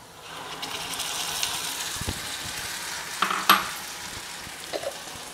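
Onions with green chillies sizzle in a frying pan just before tomato is added. The frying hiss is steady and close, and a few stirring clinks and scrapes of a utensil sound over it, with no talk.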